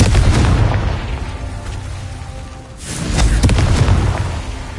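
Confringo blasting spell explosions in the video game Hogwarts Legacy, two loud booming blasts with a rumbling roar that fades between them and then surges again, near and dominant.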